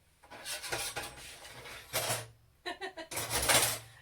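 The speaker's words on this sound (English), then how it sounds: "Let me just get my baking tray. If there's an enormous clatter while I'm over here," A metal baking tray pulled out of a cluttered kitchen cupboard, with clanking pans and rattling cookware in several loud close bursts separated by short pauses, and a voice talking in between.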